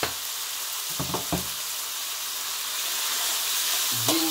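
A slice of tamarind fries in a hot pan with a steady, soft sizzle, broken by a few louder stirring clatters early on and near the end, with no talk.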